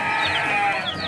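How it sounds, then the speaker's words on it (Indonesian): Garut sheep let out a short, wavering bleat, close and clear, with no talking over it. "ini di bawahnya masih banyak, guys, domba-dombanya"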